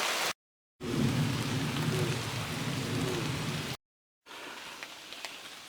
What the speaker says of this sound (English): we're at Soane's Pond and we're in the midst of a thunderstorm